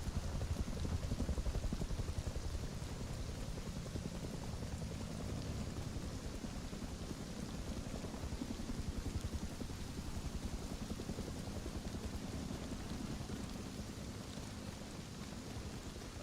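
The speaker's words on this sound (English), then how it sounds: "Nice little rain." Steady rain falls in the survival video game Rust, a continuous dense hiss of droplets that holds evenly for the whole stretch with no talking.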